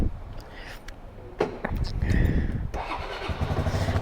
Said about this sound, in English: Bike. Hopefully it'll start.